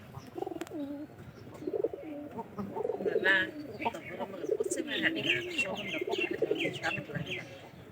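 Several pigeons coo in low, rolling phrases close by, mixed with higher chirps from small birds, with a voice talking intermittently.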